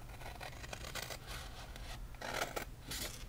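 Scissors snip paper for a Stampin' Up! window drawer box card, quiet close cuts coming in short bursts with soft rubbing between them and no voices.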